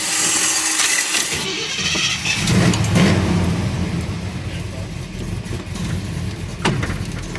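A car engine runs steadily throughout, a continuous mid-level rumble with a brief burst of louder noise near the start and a sharp transient later on.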